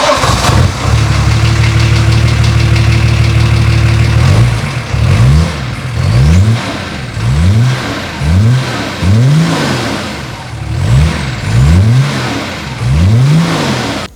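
BMW E34 diesel engine fitted with a new homemade exhaust and no catalytic converter, idling with a steady low drone, then revved repeatedly in short rising bursts, loud and close.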